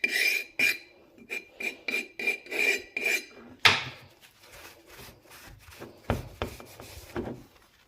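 A cloth rubs and wipes a paniyaram pan clean in quick rhythmic scrubbing strokes, a run of regular rasping swipes followed by a sharper scrape and slower, scattered rubs and taps, close and dry, with no talk.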